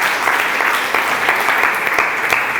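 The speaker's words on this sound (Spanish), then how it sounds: "Denle un aplauso al Señor." A church congregation applauds, a dense, even wash of clapping that stays loud and sustained from start to finish with no speech over it.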